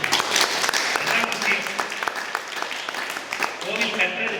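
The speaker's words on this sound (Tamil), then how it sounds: "10 வருஷம் கழிச்சு வந்தாலும் காமாட்சி கோவில் இதே நீட்டா இருக்கும்னா ஒரு கைத்தட்டு கொடுக்கும்" Audience at a Kumbabishekam ceremony of the Sri Kamakshi Ambal Temple breaks into applause during a speech, a dense patter of claps running throughout with voices mixed in.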